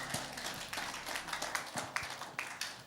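Soft, fairly steady hand clapping from a church congregation at a Sunday evening service, the claps heard as a quiet patter of overlapping taps with no speech.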